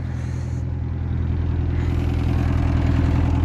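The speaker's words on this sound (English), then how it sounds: "It's like a custom exhaust all the way back with the spoon muffler." A boosted Honda EM1 with a custom catless exhaust and Spoon muffler idles close by, giving a deep, steady burbling rumble with a fine regular pulse and no talking.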